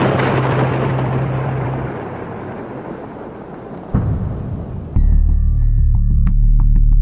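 Rocket firing after a countdown, heard as a loud, broad roaring rumble that thins, then a sudden boom near four seconds and a heavy low roar from five seconds on, alone without voices.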